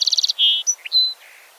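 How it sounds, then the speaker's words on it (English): A song sparrow sings one short song outdoors at Grizzly Slough in the Bay Area. Quick repeated chips lead into a buzzy trill and several sharp, varied notes, clear and close with no voices. "a classic example is song sparrow"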